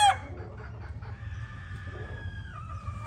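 A rooster crows once at close range, a short, fairly loud call at the start, followed by quieter clucking from a stag and pullets kept for breeding, over a low steady background hum.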